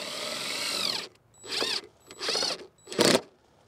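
A power drill drives Simpson 1¼-inch SD screws in three short bursts after an opening whir, each one close and loud.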